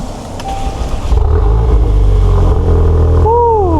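A VW MK8 Golf R fitted with a Milltek turboback exhaust revs loudly nearby, a deep steady rumble rising in pitch, with some faint voices in the background.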